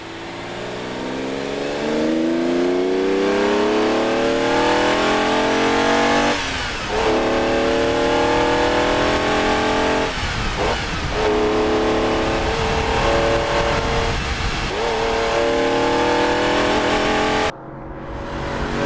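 A Ferrari 365 GTB/4 Daytona's V12, fed by six twin-choke Weber carburettors, revs hard and loud, its pitch climbing through repeated rising sweeps with brief dips between gear changes, close by with no talk.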